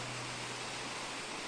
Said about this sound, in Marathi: लय भारी इकडून धबधबा कसाच आहे.